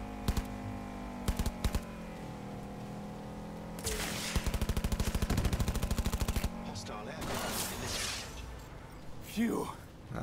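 Cyberpunk 2077 gunfire in quick bursts, including a rapid machine-gun stretch, mixed with car engine hum and other game effects.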